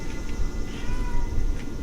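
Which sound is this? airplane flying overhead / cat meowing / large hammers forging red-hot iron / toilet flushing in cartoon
cat meowing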